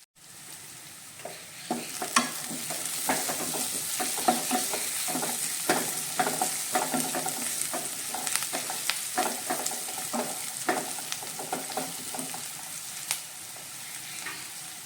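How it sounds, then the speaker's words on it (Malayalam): Curry leaves sautéing in a hot pan for a white chickpea curry, giving a steady loud sizzle with repeated crackles and spatula scrapes from stirring throughout, with no talking. "ഇതിലേക്ക് കുറച്ച് കറിവേപ്പില ചേർത്ത് കൊടുക്കാം ഇതുകൂടി ഒന്ന് ചേർത്ത് വഴറ്റിയെടുക്കാം"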